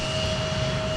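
Jet engines of an Air China Boeing 777 freighter at Minneapolis–Saint Paul airport give a steady, roaring hum with a constant whine on top. No voices are heard.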